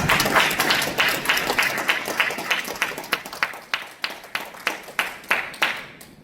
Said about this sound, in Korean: 힘찬 박수로 맞이하여 주시기 바랍니다